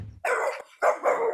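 A dog barks twice nearby, two short sharp loud barks separated by a brief pause, with no talking over them.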